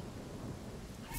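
A lightning bolt spell cast in the video game Divinity: Original Sin, a dense, noisy thunderous rumble that swells into a sharp crackling burst at the end.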